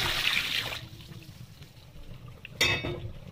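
Boiling water pours from a saucepan into a sink drain, a hissing, splashing stream that fades, then a sudden louder gush near the end, with no talking.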